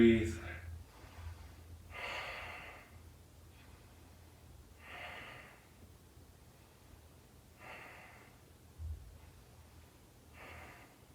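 Slow, deep breaths in a yoga rest pose with hands on heart and belly, five soft airy exhales spaced evenly a few seconds apart, close and quiet over faint background hiss.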